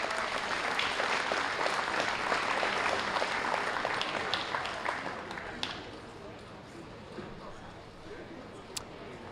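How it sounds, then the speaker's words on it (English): A crowd in the stands at a county fair swine show breaks into loud applause that gradually tapers off, with a few scattered claps and crowd murmur trailing behind. "Let's give him a round of applause."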